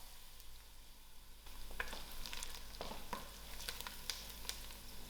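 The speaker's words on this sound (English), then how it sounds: "I added in my curry leaf and my thyme to my frying onions" Onions frying in a pan with curry leaf and thyme for a three-dhal curry, giving a steady close sizzle with crackling pops and occasional stirring scrapes throughout, no voices.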